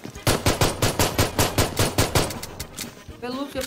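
Rapid gunfire crackles in PUBG Mobile, a run of about a dozen evenly spaced loud shots in quick succession, followed by a brief voice at the end.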